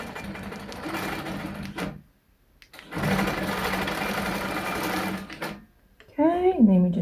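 A longarm quilting machine stitches in the ditch along a ruler, running in two steady mechanical bursts separated by a short pause, then a voice talks briefly at the end.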